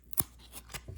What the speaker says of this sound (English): Turn it up if you're into this ASMR of peeling cards apart.